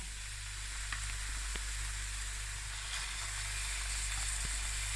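Seasoned meat frying in a pan for spaghetti bolognese, a steady close sizzle and crackle with a low hum beneath and a few faint clinks, without talk.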